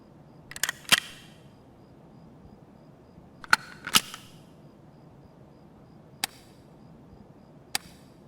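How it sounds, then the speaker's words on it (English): Sharp, loud mechanical clicks from switching a weapon's firing mode, flashlight and sight in the game Escape From Tarkov, heard as short isolated snaps in small clusters separated by near silence. "all the firing mode switching, the flashlight switching on and off, and sight switching noises all make noise, and they're very loud."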